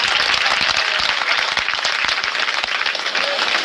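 Sustained loud applause from a crowd of employees at a Rajasthan gathering, dense steady clapping filling the whole stretch without a break.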